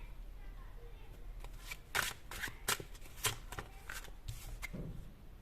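Tarot cards being shuffled in irregular bursts of sharp riffles and slides, close and moderately loud, over a faint low background hum.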